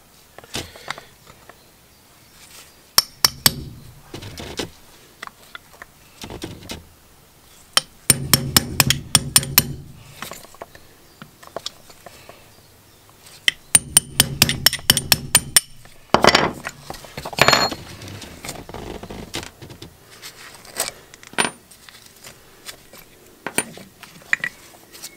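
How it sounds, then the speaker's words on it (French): Small hammer tapping a pin punch to drive out the retaining pins of new brake pads on a Mercedes 500 SL R129, sharp metallic strikes in several quick bursts with pauses between, close and fairly loud. "un chasse-goupille et un petit marteau."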